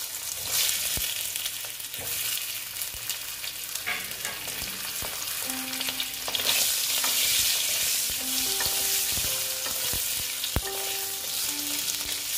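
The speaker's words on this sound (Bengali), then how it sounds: "আলুগুলো ভেজে নিচ্ছি।" Boiled potatoes frying in hot oil, a loud continuous sizzle with occasional stirring clinks and scrapes from a pan, close up and without talk.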